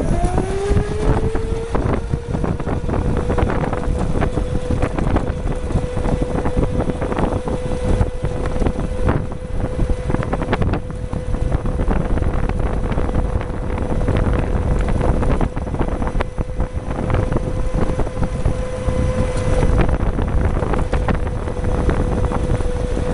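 Electric motor of a 60V Excalibur electric racing go kart prototype held at low loaded RPM, a steady whining tone running continuously with broadband wind-like rush and rumble throughout.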